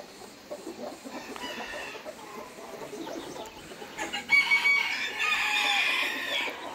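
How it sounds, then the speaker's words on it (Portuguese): Brahma hens and an older rooster cluck and call in a farmyard, with steady chicken chatter building into a louder burst of crowing and squawking toward the end; no one talks. "aquelas duas ali que estão juntas são galinhas. E o galo mais velho"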